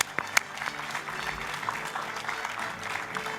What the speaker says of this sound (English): that's worth an applaud, don't you think?